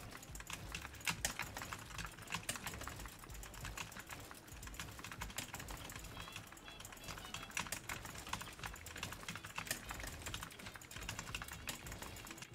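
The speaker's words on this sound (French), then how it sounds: "on a le clavier, en plus il me semble qu'il s'illumine, donc je vous propose qu'on teste ça directement" Fast, steady typing on a new illuminated keyboard, dense clicking keystrokes close up throughout with no talking.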